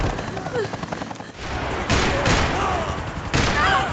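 Video game gunfire in Max Payne 3 pounds in loud, dense bursts amid a noisy firefight, with shouting voices mixed in.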